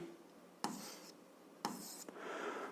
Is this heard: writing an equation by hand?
yes